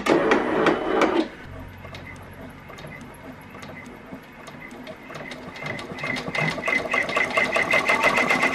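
An embroidery machine stitching Always Be Kind designs onto shirts, a loud whirring burst followed by a quieter pause, then rapid rhythmic needle clatter building up again.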